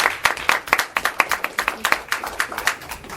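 A small group at a school board of education meeting claps for students, each hand clap sharp and distinct in a loose, uneven rhythm, close and fairly loud.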